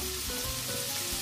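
Chopped tomatoes sizzling steadily in a hot pan while cooking arbi sabji, a close, even hiss and crackle with no talking.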